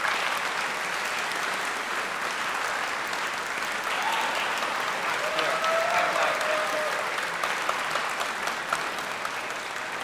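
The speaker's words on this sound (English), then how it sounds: "Applause, please." Steady applause from a convention audience at a charity auction fills the whole stretch, dense and even, with a faint voice briefly audible beneath the clapping.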